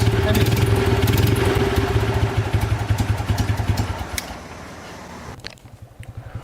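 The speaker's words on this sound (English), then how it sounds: "the engine sounds nice" A 1955 BMW R50 vintage motorcycle engine is kick-started and idles with a steady, close thumping putter, loud and even, before the rhythm thins and quiets toward the end under faint garage noise.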